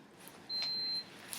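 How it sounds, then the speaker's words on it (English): A steady high-pitched electronic beep holds for about half a second, faint against quiet room noise. "Stop this beeping"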